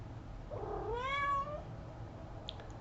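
A single drawn-out meow from a house cat indoors, rising and then falling in pitch, close and clear over a quiet room hum.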